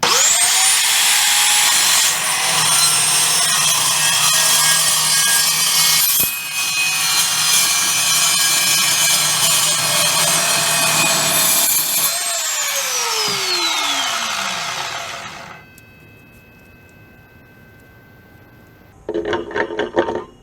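Evolution S355CPSL chop saw cutting a small piece of steel: a loud motor whine with a high grinding screech through the cut, the blade spinning down to silence, then a brief clatter at the end.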